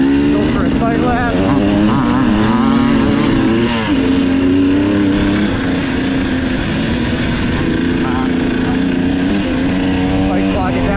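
A motocross dirt bike rides a sighting lap on a new track, its engine droning loudly and steadily with rising and falling revs, while a rider talks over it.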